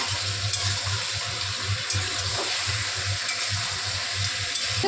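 Mutton for curry fries in hot oil with a loud, continuous close-up sizzle and bubbling over a low steady hum, occasional soft stirring knocks, and no one speaking.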